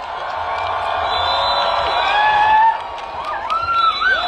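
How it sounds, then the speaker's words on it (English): Climate march crowd at the COP26 Global Day of Action in Glasgow cheers and whoops outdoors, scattered shouts and whistles rising over a steady crowd roar. "they need an immense round of applause for the work that they have done"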